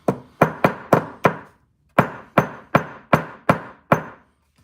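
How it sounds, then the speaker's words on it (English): Small hammer crushing peridot gemstone on a hard surface: ten sharp, close knocks in two quick runs of five, each with a short ringing decay, the second run slightly slower and separated by a brief pause. "So this is peridot that I'm crushing right now."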